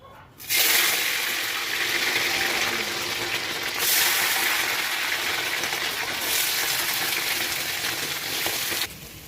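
Boiled mutton liver being strained, with a steady broadband rush of water draining through for about eight seconds, loud and continuous with slight surges, starting abruptly and cutting off near the end.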